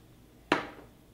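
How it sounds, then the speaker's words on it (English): A single short spritz of lemon juice from a spray bottle onto ribs, a quick hissing burst that fades within about half a second, close by against a quiet background. "we put it in our little spray bottle here"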